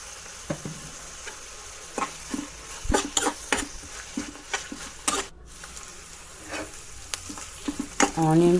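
Onions and cashews frying in a pan for masala rice sizzle steadily up close, punctuated by sharp metallic spatula clinks and scrapes, with brief speech at the end.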